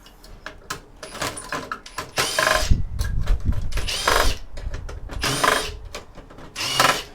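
CPUs are pulled out of a scrapped Xerox server: close, irregular clicks, clacks and metallic scraping, with a few louder rattling bursts of hardware being pried and handled.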